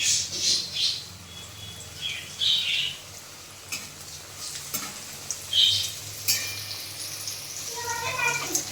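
Mini kachuri-style nimki fry on a low flame in hot oil, a soft continuous sizzle with occasional stirring clinks and a few faint bird chirps in the background.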